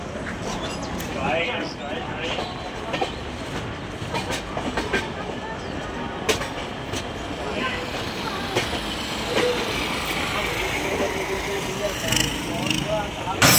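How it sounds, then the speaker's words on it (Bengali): The North East Express rolls into New Bongaigaon Junction station with a continuous rumble and rhythmic clickety-clack of wheels over rail joints, crowd noise and voices mixed in throughout. "আমাদের ট্রেন ঢুকে পড়লো নিউ বঙ্গাইগাঁও জংশন স্টেশনে"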